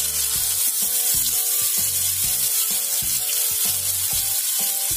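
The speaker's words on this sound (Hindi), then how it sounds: "मैं फ्राई कर लूंगी।" Chicken pieces frying in a pan with a little oil, giving a steady, close, loud sizzle with faint scraping underneath, continuous throughout and with no speech.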